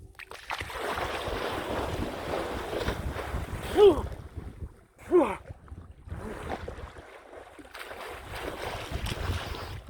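Cold wind blows outdoors in steady gusts with broadband rushing and microphone buffeting. It drops briefly to near quiet midway, and a couple of short sharp squeaks cut through.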